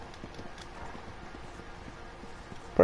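Horse hooves clip-clopping in a video game, a steady muffled patter running the whole stretch at moderate level, with a louder bump right at the end.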